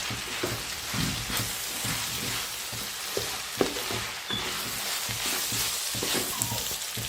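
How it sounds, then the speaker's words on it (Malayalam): Onions frying with curry leaves and coriander leaves in a pan, a steady close sizzle broken by intermittent scraping stirs, for a Kerala-style chicken biryani. "ഇനി അത് ഈ സവാളയുടെ കൂടെ കരിവേപ്പിലയും മല്ലിയിലയും കൂട്ടി നല്ലതായിട്ട് ഒന്നുകൂടെ ഇളക്കുകയാണ്"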